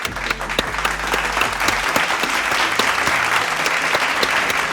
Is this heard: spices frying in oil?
no